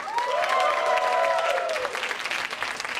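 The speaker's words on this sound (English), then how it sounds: "Got a huge round of applause for Azim" Applause from an audience at a leadership and persuasion pitch event, brisk steady clapping with a few whistles and light cheering mixed in.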